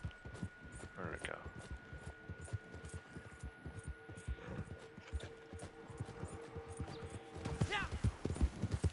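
Steady clip-clop of horse hooves at a trotting rhythm in the video game Red Dead Online, close and continuous, with a faint low hum and an occasional whinny-like squeal.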